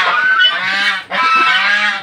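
Geese on a Philippine backyard farm honk loudly and close by in two long, harsh, nasal calls, the pair running almost back to back, with no talking.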